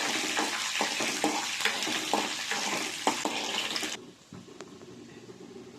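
Dal fries in a pan with a loud, dense sizzle broken by stirring scrapes, then drops abruptly to near quiet partway through.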